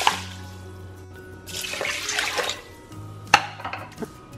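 Water poured into a cooking pot holding one cup of rice, two cups added in a kitchen: a steady splashing pour swells midway, with a sharp clink of a pot or utensil near the end and no talking.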